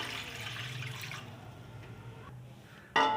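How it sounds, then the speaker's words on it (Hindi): Plain water poured from a glass into a kadhai on a stove, a steady close splashing pour that trails off, ending with a brief louder splash. "3 गिलास मैंने इसके अंदर वाटर ऐड कर दिया है।"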